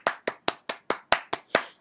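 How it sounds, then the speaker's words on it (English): Eight sharp hand claps land in a quick, fairly even rhythm, each a crisp close slap with a short decay and nothing else in between. "I applaud them."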